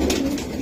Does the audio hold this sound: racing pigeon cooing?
yes